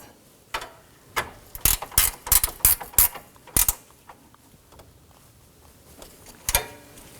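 Ratchet wrench snugging down radiator mounting bolts on a 2018-2024 Toyota Camry 2.5L, heard as several quick bursts of clicking ratchet strokes close up, clustered in the middle with pauses between, no talking.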